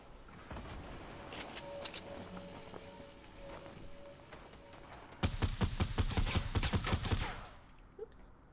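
Fortnite video game gunfire: scattered shots at first, then a rapid burst of repeated gunfire for about two seconds, with faint game sounds around it.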